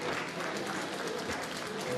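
A crowd at a two-man bobsleigh World Cup race in Sochi applauds and cheers from the trackside, a steady broadband wash of clapping held for a couple of seconds, with a commentator talking over it.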